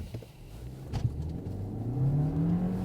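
A Volkswagen Golf 8 1.4 turbo engine revs up steadily from low, its pitch rising as it accelerates from a start, heard from inside or nearby.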